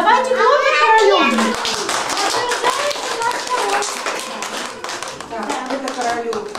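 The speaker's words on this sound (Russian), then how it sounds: "Ну что, давайте хлопать королем." Children and adults clapping at a kindergarten New Year party, irregular near handclaps mixed with children's voices and an adult talking throughout.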